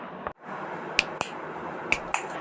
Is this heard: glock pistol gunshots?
no